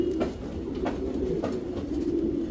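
A top-class racing pigeon with red colouring and white markings on its legs and back coos close by, several soft, throaty coos repeating in a steady rhythm.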